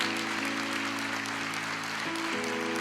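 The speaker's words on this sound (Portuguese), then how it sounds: "Vamos aplaudir o Senhor." A church congregation applauding, dense sustained clapping filling the room evenly from start to end, with a held musical tone underneath.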